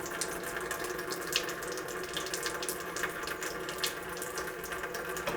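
A small sink tap at an outdoor washing table runs in a steady, continuous stream, the close splashing and gurgling of water holding even and unbroken throughout with no voices.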